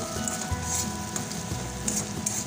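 Strips of eggplant and potato fry in oil in a pan, giving a steady, close sizzle and crackle with no pauses and no voices.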